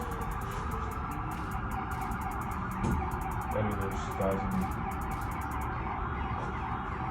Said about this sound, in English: There's 1, 2, 3, 4, 5, 6 ambulances.